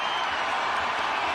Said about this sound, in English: And this crowd is raucous.